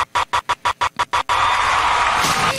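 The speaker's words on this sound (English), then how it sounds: "The crowd goes wild" A crowd roars and cheers loudly and continuously for over a second after a run of six rhythmic, evenly spaced bursts, the cheering swelling to a bright, sustained din.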